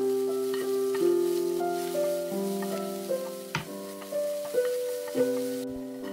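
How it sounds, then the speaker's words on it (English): Chopped ginger, garlic, green chilies and cilantro leaves sizzle as they are sautéed and stirred in a pan. The frying is soft and continuous, with a few light stirring scrapes, under gentle background music. "Add chopped ginger, garlic, green chilies, and few teaspoons of cilantro leaves and saute for a minute."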